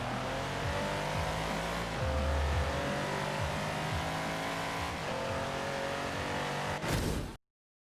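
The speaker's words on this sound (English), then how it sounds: "What's this thunderous V12 going to be like on the track?" A Brabus-tuned Mercedes-Benz SL65 with a V12 engine in Forza Horizon 4 roars steadily and close up, holding a loud, continuous drone with gear-shift dips before cutting off abruptly at the end.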